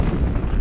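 Gunfire from the first-person shooter Halo: Combat Evolved, a short, dense, booming burst with heavy low-end rumble that fills the whole moment, with no voice over it.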